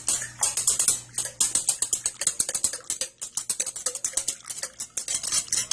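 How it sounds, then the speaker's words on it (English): Batter ingredients for fried chicken being whisked in a bowl, rapid rhythmic clicking and scraping of the whisk against the sides, close and continuous with brief pauses. "After you put all these ingredients in, you then want to whisk it out."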